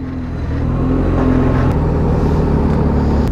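A jeep pulling away, its engine rumbling loud and close as it moves off, a steady motor drone that shifts slightly in tone as it goes.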